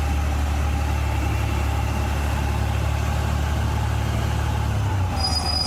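A truck engine idles in the X-Plane 12 simulator, a loud, steady low rumble that holds unchanged throughout, with a faint higher tone entering near the end and no talk.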